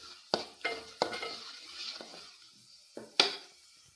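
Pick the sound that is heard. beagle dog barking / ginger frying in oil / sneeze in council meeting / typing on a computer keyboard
ginger frying in oil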